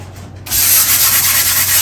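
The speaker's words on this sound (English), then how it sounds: "we're going to do a little bit of sanding. Yeah, we'll try the 400 grit and maybe the sanding block that I have." Laminate countertop rubbed with a 400 grit sanding block, a brief quiet moment then a close, steady scratchy rasp of sanding strokes filling the rest.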